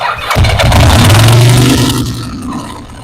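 Ducati 900SS motorcycle engine cranking with choke on but failing to catch, a loud low churning starter drone lasting about three seconds, close up and without speech.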